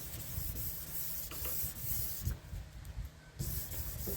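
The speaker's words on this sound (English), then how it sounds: "since I've started with the 600 grit sandpaper" Steady rubbing hiss of 600 grit sandpaper being block sanded across a firearm's metal surface, continuous strokes with slight swells and brief pauses, close up and alone without speech.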